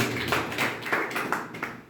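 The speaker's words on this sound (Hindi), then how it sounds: "एक जोरदार तालियां बजा दीजिए" An audience at a Money Club business meeting in a Kanpur office claps together in a steady rhythmic beat, each clap landing about three times a second, moderately loud and close.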